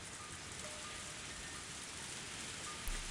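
Heavy rain beats on a car roof in the visual novel game Higurashi, a steady dense hiss of drops at an even level throughout.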